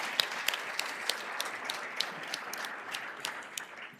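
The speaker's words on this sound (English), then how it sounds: "So let's applaud Jude, because we're glad you're with us," Audience at a scholar-athlete recognition awards ceremony applauding, a moderate, even patter of many hands with a few louder individual claps standing out, no voices over it.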